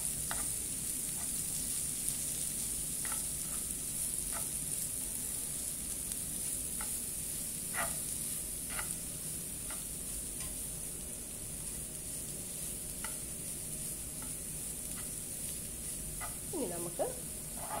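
Curry stirred in a pan on the stove, a steady low sizzle with scattered soft scraping taps from the spoon, continuous and fairly quiet throughout.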